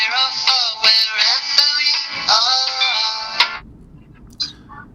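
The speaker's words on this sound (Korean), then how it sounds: "이게 이제 생방송 중에 실제로 명태균 씨하고 전화 통화를 한번 시도한다" An outgoing call placed during a live broadcast rings through a handset as a tonal electronic ringback, sounding in two long bursts and cutting off after about three and a half seconds, followed by faint room noise.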